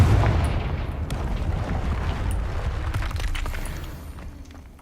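In the Hogwarts Legacy video game, a Confringo fire spell explodes with a deep, rumbling boom that fades slowly, with a few faint crackles and pops, and no talking over it.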